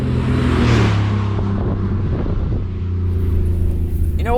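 A van driving on a racetrack gives a loud, steady engine drone with a rumbling low end and wind buffeting, heard from inside the cabin, and a voice speaks briefly over it.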